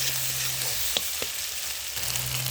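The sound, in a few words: onions frying and being stirred in a pan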